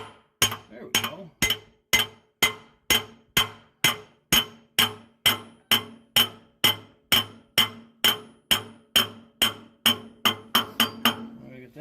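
Hammer blows strike transmission parts during reassembly, about twenty-five sharp metallic hits at a steady, even rhythm, each ringing briefly, close and loud with no talk.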